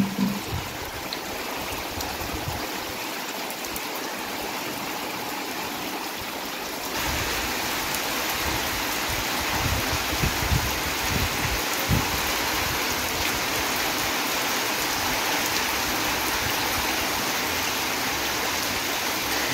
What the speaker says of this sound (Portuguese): Muita chuva mesmo